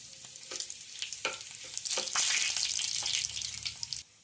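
Tempering spices and small pieces of dried red chilli dropped into hot oil crackle and sizzle loudly. Spoon stirs scrape through the first half, then a dense sizzle holds steady before cutting off abruptly.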